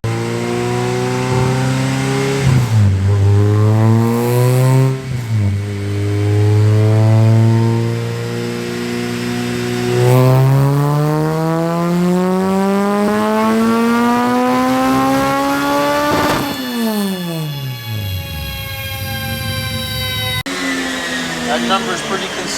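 Car engine revving hard on a dyno, loud and close, with several long climbing pulls up through the rev range, one sharp drop and a short idle, plus faint voices underneath.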